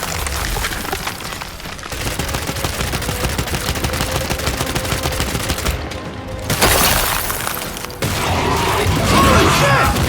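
Gunfire rattles in Gears of War 5 during a fight with the Matriarch, loud dense bursts of shots mixed with explosions and mechanical clatter, continuous throughout with shouted voices in the chaos.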